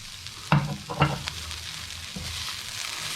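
Crispy cooked anchovies tipped into frying chilli sauce for balado teri, two thuddy drops and clatter followed by a steady sizzle and stirring.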